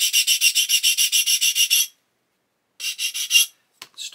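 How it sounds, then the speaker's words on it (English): A big flat sanding stick rasps back and forth over plastic parts of a 1/35 scale Flak 8.8cm on 9t VOMAG model kit. A fast, even run of close strokes stops, then a shorter burst follows, then a couple of faint taps. "So I'm going to take a nice big flat sanding stick and just check that none of these bits here are sitting"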